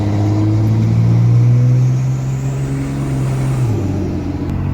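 A Cummins diesel pickup with a laggy, smoky turbo revs hard, the loud engine note climbing steadily before dropping back, close up and with no talking.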